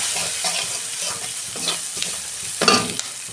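Ground turmeric, coriander and cumin fry in a hot pan with a steady sizzle, while a spoon scrapes and stirs through the spices in a run of close, uneven strokes.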